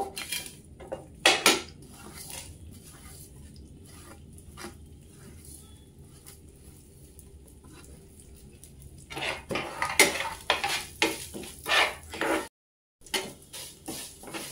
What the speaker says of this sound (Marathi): आता आपण हालीम भाजून घेऊ.